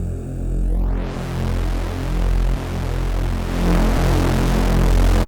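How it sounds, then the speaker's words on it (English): Thick Serum Reese bass built from 16 unison sawtooth voices with a reverb filter, droning steadily and loud with a dense low hum, a sweeping high filter opening near the start and brightening toward the end. "And then we're gonna introduce the game changer, the Reverb Filter."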